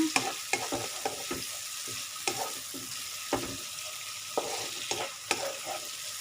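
Spices stir-fried in a pan for bitter gourd with shrimp, a continuous oily sizzle broken by repeated scraping knocks of a spatula against the pan, close and fairly loud with no talking.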